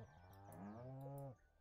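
A cow moos once in the Stardew Valley farming video game, a single drawn-out, clear low call lasting over a second with no talking.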